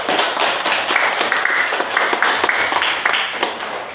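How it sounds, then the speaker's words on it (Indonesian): Classroom applause for group 1 of students, a lively burst of many small hands clapping close by, dense and continuous for about four seconds with uneven individual claps standing out. "Kita kasih aplaus untuk kelompok 1."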